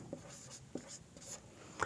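A question being written on a classroom board during a Hindi-medium English grammar lesson, heard as faint, intermittent scratchy strokes over a low room hum.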